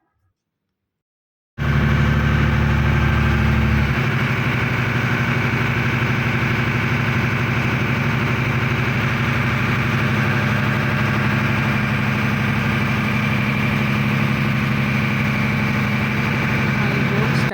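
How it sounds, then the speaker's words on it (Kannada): A passenger boat engine at Mangalore's port starts up after a brief silence, then settles into a loud, steady low drone with a constant hum that runs throughout. A voice talks now and then over the engine. "ಈಗ ಬೋಟ್ ಸ್ಟಾರ್ಟ್ ಆಯಿತು."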